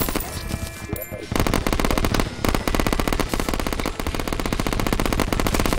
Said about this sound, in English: actually fires bullets, because he's got a giant, machine gun attached to his arm